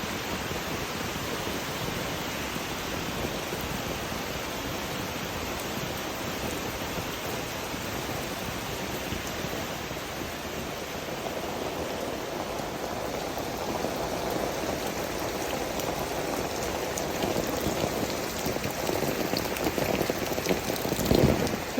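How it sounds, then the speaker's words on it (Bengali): Heavy rain pours down in a rural jungle-like garden, a dense, unbroken roar of drops on surfaces that swells slightly louder toward the end, with no voices. "বৃষ্টির তো একটা লিমিট থাকে আনলিমিটেড বৃষ্টি শুরু হয়েছে"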